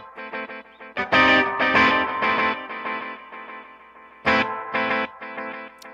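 A Boss RE-202 Space Echo tape echo pedal in a high-saturation mode pushes out thick, distorted sustained tones with echoing repeats. It surges louder at two points and rings on alone with no talk.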